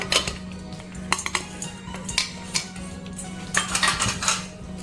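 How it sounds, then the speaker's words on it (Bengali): Chana dal goes into a pressure cooker on top of mutton, with close clinks and scrapes of a metal spoon against the pot in a quick irregular series and no talk over them. "তারপর ছোলার ডালটা দিয়ে দেব"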